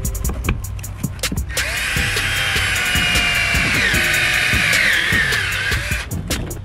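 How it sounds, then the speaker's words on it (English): Power drill boring holes into a Ford F150 during a Kicker Q Class amplifier install, a steady high whine running for several seconds alone after brief clicks and handling noises. "We gotta drill two holes."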